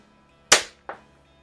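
An antique BB gun, a Quackenbush, Hahn, Crosman or Daisy airgun in need of internal work, fires two sharp, close shots about 0.4 seconds apart, the first a loud crack and the second a softer pop, with quiet around them.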